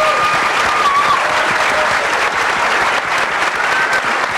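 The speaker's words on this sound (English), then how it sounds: "How about a big round of applause for all of our panelists?" A crowd claps for the panelists at a $15 minimum wage debate, with loud, sustained applause filling the room evenly from start to finish. A few faint whistles cut through.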